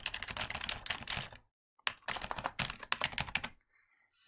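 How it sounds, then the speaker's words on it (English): Fingers type quickly on a computer keyboard at close range in two dense runs of clicks, separated by a brief pause, before a quiet tail. "And then you start typing your stuff that you want to tell your class."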